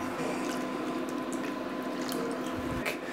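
A can of water is poured into a pot of tomato sauce for meatballs, giving a close, steady splashing gurgle of liquid that runs for a few seconds without any talking.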